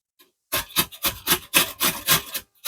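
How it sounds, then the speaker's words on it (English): Food is rasped across a handheld grater in a travel trailer kitchen, about nine close, rhythmic scraping strokes in a row with brief gaps between them. "We're gonna use a grater"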